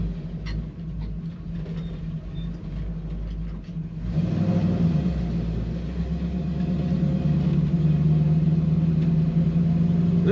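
A 1968 Chevrolet Camaro Coupe driving in fourth gear through light traffic, its engine a steady low drone that swells louder as the throttle is pressed midway, with someone talking over it early on.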